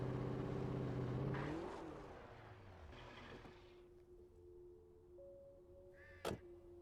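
A car engine in the Alan Wake video game hums and shifts as the vehicle is driven poorly, revving then settling into a lower drone, with a sharp thunk near the end.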